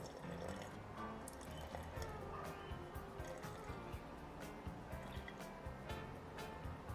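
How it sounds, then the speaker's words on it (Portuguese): Water is poured and trickles into a container while a sourdough starter is being fed, a faint, continuous liquid stream with soft drips and small clinks, close by and without talk. "Eu vou colocar 30 de água, né? Então vamos lá, vamos colocar 30 de água aqui."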